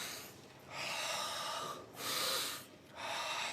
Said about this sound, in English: Breathe in and breathe out. Don't stop breathing.